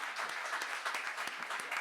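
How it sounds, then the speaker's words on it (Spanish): A short burst of audience applause after a lecture on Old Testament spirituality, dense and even, fairly faint and distant, with no talking over it. "merece que le demos un aplauso"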